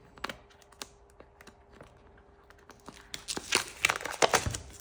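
Plastic wrap is opened and crinkled close up: a few scattered sharp clicks at first, then dense, crackly bursts of crinkling that grow louder toward the end, with no talking.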